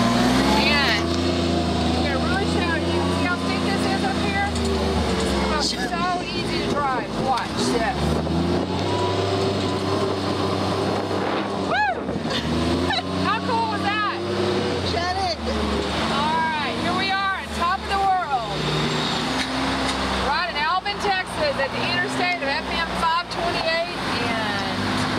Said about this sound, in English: ride the new MULE PRO-FXT.